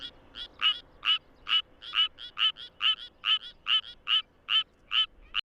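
A Suweon treefrog sings alone, giving a steady run of short, bright croaking pulses at an even rhythm, about three per second, close and clear over a quiet background.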